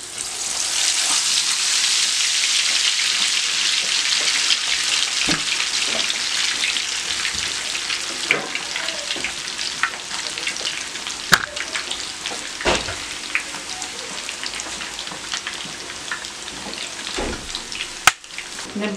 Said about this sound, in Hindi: आपने एहतियात के साथ इस मसाला लगे चिकन को ऑयल के अंदर रखना होगा